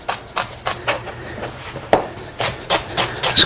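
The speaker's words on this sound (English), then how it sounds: "I'm just going to mince this one up a little finer" Knife mincing fresh herbs on a cutting board, a run of quick, uneven chops tapping close by at a steady working pace, alone without talk.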